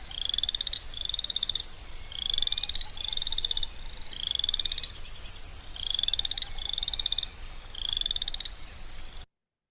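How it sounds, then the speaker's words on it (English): Boreal chorus frogs call from a marsh in a steady series of rising, trilled creaks, repeated in regular bursts at moderate distance over a faint background hiss. "So this is some boreal chorus frogs, and this is call code 1."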